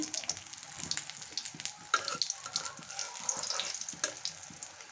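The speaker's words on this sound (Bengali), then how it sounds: "আমি অল্প তেল দিয়ে ভাজছি।" Beef and potato keema paratha frying in a pan with a little oil, giving a steady, close sizzle with crackling pops throughout and no voices.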